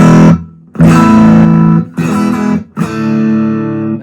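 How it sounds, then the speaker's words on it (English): An unprocessed electric guitar through a Blackstar IDX amplifier, four strummed chords ringing out loud and clean with short gaps between them. "So without it, this is the sound of the amp, completely dry."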